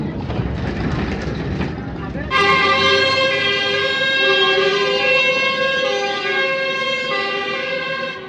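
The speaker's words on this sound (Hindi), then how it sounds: "फायर ब्रिगेड थी ना कहीं पे तो आग लगी है" A loud, steady fire engine siren wail starts abruptly and holds close by on a street in Salzburg, Austria, over a background of traffic noise.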